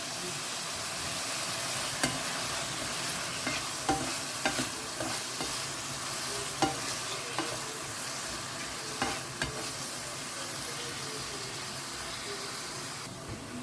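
Tomatoes frying in a pan with salt while a spoon stirs them, a steady close sizzle with repeated soft scraping strokes of the utensil against the pan, no talk.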